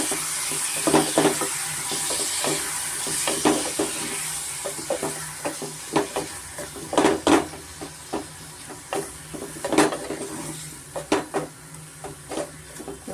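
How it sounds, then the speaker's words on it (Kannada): Tomatoes frying in a pan with garlic and being stirred, a constant sizzle and steam hiss broken by repeated scraping spoon strokes, close and fairly loud. "ಟೊಮೆಟೊ ಸೇರಿಸ್ಕೊತಾ ಇದ್ದೀನಿ ಟೊಮೆಟೊ ಫುಲ್ಲು ಸಾಫ್ಟ್ ಆಗಬೇಕಾಗುತ್ತೆ"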